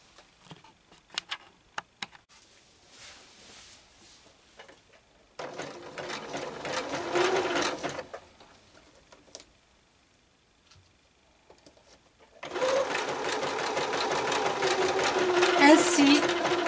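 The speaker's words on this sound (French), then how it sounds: "Une fois bien épinglé, vous n'aurez plus qu'à l'engager pour passer le zigzag tout autour." A domestic sewing machine runs a zigzag stitch around a pinned fabric piece. Two loud, close bursts of rapid whirring and ticking are separated by a pause with faint handling noises, and soft talk is heard near the start.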